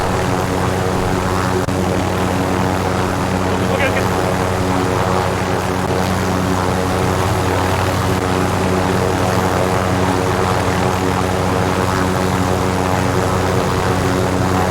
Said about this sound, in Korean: 헬기 타고 여행을 떠나자